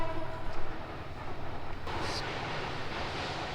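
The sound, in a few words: passing train sounding its whistle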